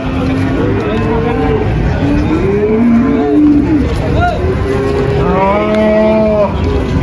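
Limousin cattle moo repeatedly, the drawn-out low calls overlapping one another against a steady farmyard background.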